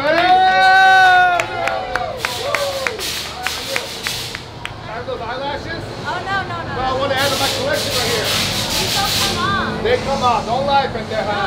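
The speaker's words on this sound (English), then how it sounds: "Give a round of applause, everybody." Voices and excited shouting mix with cheering and scattered claps inside a haunted house attraction, with a crowd noise that swells and falls amid talk throughout.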